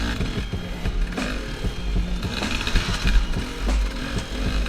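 A KTM 300 XCW dirt bike revs hard on an uphill log jump, its engine rising and falling in continuous loud bursts of throttle, with no talk.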